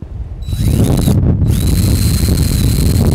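A power drill runs from outside into a new 7 mm hole in a patio door while fitting a smart lock, revving up, briefly stopping, then spinning steadily again with a high whine over grinding.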